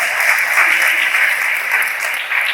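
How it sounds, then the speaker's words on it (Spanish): A church congregation applauding steadily, dense and loud clapping that sustains evenly throughout without letting up. "Le damos un aplauso al Señor."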